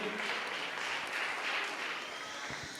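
A church congregation claps loudly after a healing testimony, a dense, continuous wash of applause filling the whole moment without a break.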